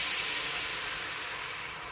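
Hot water hitting a hot Lodge cast iron skillet on a burner, a loud broad steam hiss and sizzle that starts strong and slowly fades over a couple of seconds.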